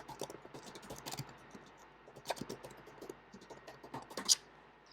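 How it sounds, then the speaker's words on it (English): Keystrokes on a computer keyboard during a software lesson, quiet and scattered, tapping in short irregular bursts with no talking. "and then I can just start typing"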